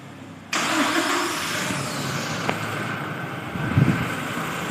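A Toyota Revo pickup engine cranks and catches, jumping abruptly from quiet to a steady, close idle rumble that holds evenly, with a brief tick midway and a slight swell near the end.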